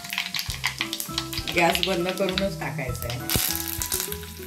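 Mustard and cumin seeds spluttering in hot oil for a tempering, crackling and popping up close while someone talks over the sizzle.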